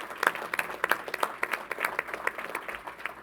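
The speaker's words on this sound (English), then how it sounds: "Let's give him a round of applause" Audience applause for a Commissioner at a New York State Fair announcement, a short burst of scattered, moderately close clapping that stays uneven and fades slightly.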